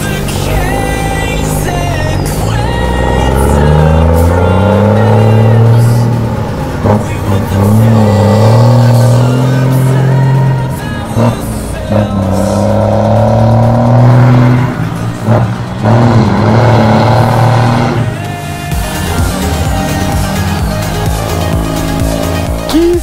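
Heavy truck engine at night revving up and down through repeated gear shifts, loud and close, with rising and falling pitch sweeps and brief pauses between shifts.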